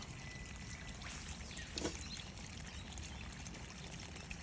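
Rainwater pours steadily out of a roof bypass pipe in a faint, continuous trickling wash, with a slightly stronger gush near the two-second mark.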